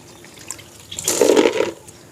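Water flowing over gravel in a small artificial stream, a brief surge of splashing and trickling that swells then fades, close and fairly loud with no talk.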